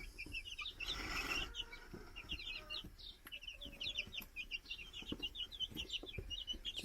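Chickens clucking and chirping inside a new coop, a steady run of soft, overlapping calls close by with a louder burst of activity near the start and no talking.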